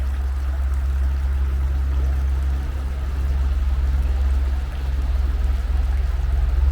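Model submarine Alvin with an upgraded caterpillar drive running at low throttle in open water, a steady close motor drone with water swirling and rushing throughout, no talk over it.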